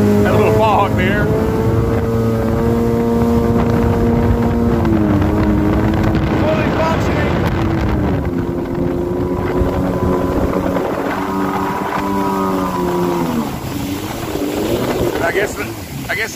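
A jet ski engine drones steadily at wide-open acceleration, its pitch rising and dipping in waves over strong wind noise, with a voice talking briefly near the start.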